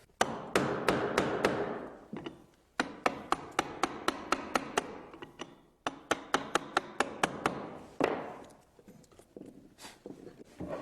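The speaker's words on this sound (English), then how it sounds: "I'm going to chisel out what I couldn't do on the table saw." Sharp, rhythmic mallet blows on a chisel cutting out a wooden dado for a staircase, quick bursts of strikes with short pauses between series, close and clear.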